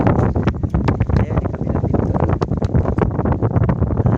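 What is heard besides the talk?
strong monsoon wind at sea on fishing boat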